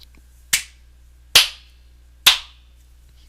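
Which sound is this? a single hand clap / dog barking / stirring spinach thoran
a single hand clap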